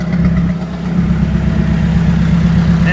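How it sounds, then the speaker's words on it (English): A Honda B18C1 car engine with a blown motor idles roughly up close, a loud low rumble with an uneven, lumpy pulse throughout. "my idle didn't used to sound like this"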